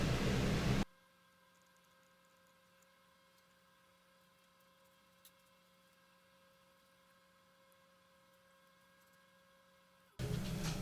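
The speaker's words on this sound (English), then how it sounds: "you might hear my heater running there in the background" A space heater gives off a faint, steady electrical hum and hiss, bracketed by brief louder bursts of noise at the start and end.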